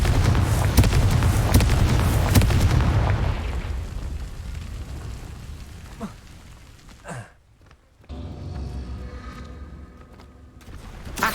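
Confringo fire spell blasts in a wizard video game, a heavy rumbling explosion with crackling debris that fades over several seconds, followed by quieter game ambience and another faint impact near the end.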